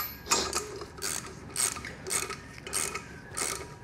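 Ratchet clicking in about six short bursts as brake drum bolts are tightened in a cross pattern, close and fairly faint, with light mechanical rattles and no talk.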